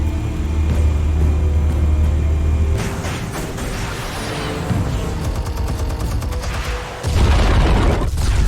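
Explosives go off in the Batman: The Telltale Series game as a loud rumbling blast, then a dense stretch of crackling debris and mechanical clatter, with a second heavy boom near the end.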